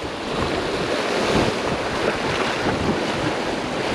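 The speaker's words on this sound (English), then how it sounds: "I got the wind fighting against me. I got pretty strong current fighting against me." Wind and surf at a fishing jetty, with a steady broadband roar of breaking waves and gusting wind buffeting the microphone, loud and continuous with no voices.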